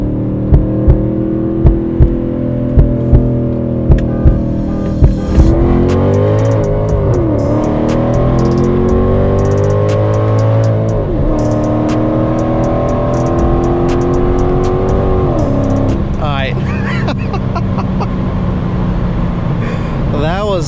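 A Mercedes E55 AMG with long tube exhaust and a bigger throttle body accelerates hard from inside the cabin, a loud rising engine roar through repeated gear changes after a few clicks at the start.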